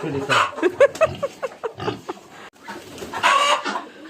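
A farm hen squawks loudly and repeatedly after being caught, harsh agitated cackles close by, mixed with people talking over it.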